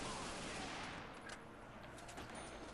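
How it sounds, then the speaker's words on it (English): Rapid automatic fire from an XM8 rifle in a video game: a loud, dense, continuous stream of shots with no pauses, running steadily for about three seconds. "this XM8 is totally cool. Like, no recoil, and it shoots like so freaking fast."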